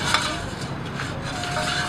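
A spoon stirs and scrapes through a mixture in a pot while preparing stock for catfish pond farming, producing steady soft scraping and faint clinks throughout, with no talking.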